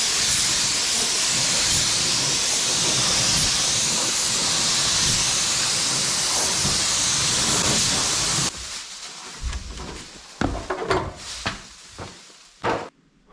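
A spray gun with a narrowed fan sprays coating onto a rusted roof, giving a loud, continuous close-up hiss that stops abruptly, followed by scattered clunks and rustles.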